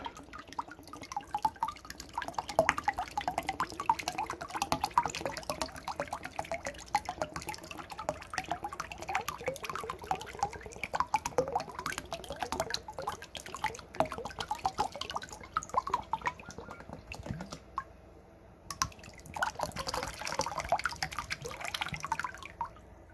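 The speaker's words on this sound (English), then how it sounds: "Empty any water out of the Chia Pet" Water drips and trickles out of a Michael Myers Chia Pet as it is emptied, a steady patter of close, soft drops that continues for over twenty seconds with a brief lull near the end.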